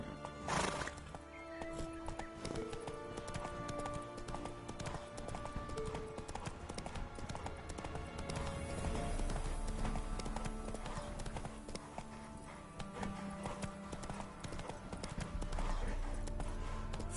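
A horse gallops with steady, fast clip-clop hoofbeats and a loud neigh near the start in The Witcher 3, the hooves continuing close and even throughout.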